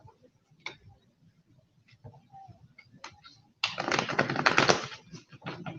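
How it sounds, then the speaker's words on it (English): A deck of reading cards is handled with a few sparse taps and flicks, then riffle-shuffled in a dense, close burst of rapid fluttering clicks lasting about a second and a half. "Let me go ahead and shuffle."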